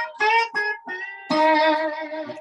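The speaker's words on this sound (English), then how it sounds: "There's slide guitar, and that's what slide is." Electric slide guitar in open A tuning plays a few short gliding, whiny notes, then a longer sustained sliding phrase, loud and close with no voices.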